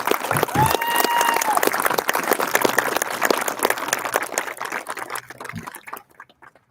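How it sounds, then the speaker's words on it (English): An audience applauds graduates at an evening completion ceremony, a dense wash of clapping that stays loud and steady, then thins and fades out near the end. "Let's give another round of applause to all of our completers this evening."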